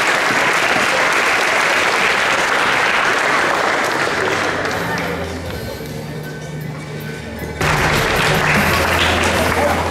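Loud, dense audience applause fills a castle hall at a combat club's tenth-anniversary celebration in Rydzyna, continuing steadily, dipping briefly in the middle, then surging back to full strength.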